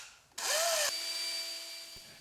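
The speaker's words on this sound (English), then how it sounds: "you start sanding the lenses with the 500 grit sanding disc" A drill fitted with a 500 grit sanding disc spins up on a headlight lens, a brief rising whine that settles into a steady hum and fades, heard up close and alone.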